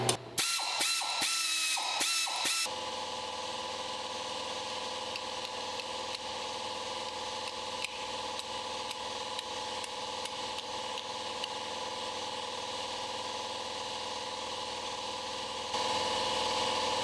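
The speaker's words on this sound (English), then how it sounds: "the reason I don't use this air ratchet is it is noisy as all get out" A loud pneumatic air ratchet works on a Jeep front axle brake job, opening with several sharp, separate bursts before settling into a steady, harsh whirring buzz that runs alone for the rest of the clip.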